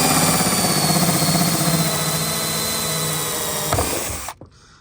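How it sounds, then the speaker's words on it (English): A power drill whines steadily at high speed for several seconds, loud and close, drilling a hole in a Toyota MR2 Roadster to fit a reversing camera, then cuts off abruptly and falls to near silence. "So pop that in the drill, go make a hole"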